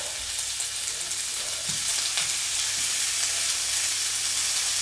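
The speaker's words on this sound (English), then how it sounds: "That's just a dry frying pan, guys." A dry, smoking frying pan searing shin of beef sizzles and hisses continuously, a bright steady crackle with faint stirring scrapes, close and moderately loud.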